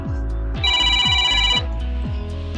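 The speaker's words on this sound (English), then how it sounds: "excuse me about that cell phone going off" A cell phone ringtone goes off loudly, a tonal electronic melody repeating over a pulsing low beat, with no one speaking over it.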